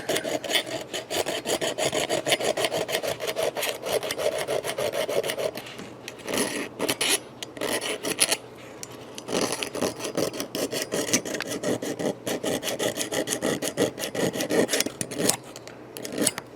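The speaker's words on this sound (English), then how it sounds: "Let's get some of this rust off the switch here." Rust is scrubbed off a guitar pickup switch in quick, harsh rasping strokes, a dense run of close scraping that briefly thins partway through before resuming; no talking.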